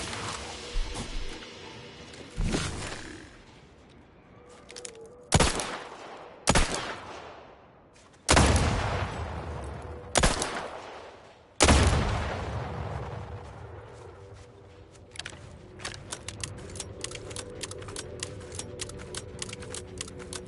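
Gunfire in The Outer Worlds 2: sharp, loud bursts of shots at irregular intervals over a steady game background, ending in a rapid stuttering run of quick automatic fire.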